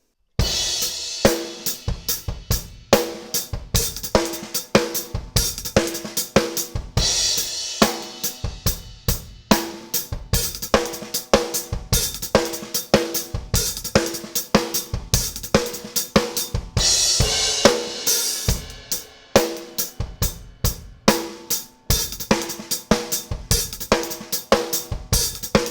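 A drum kit plays a lick in context, with loud, punchy hits in a busy, steady groove. Snare and kick strokes are packed closely over about twenty-five seconds with brief gaps, and no one speaks.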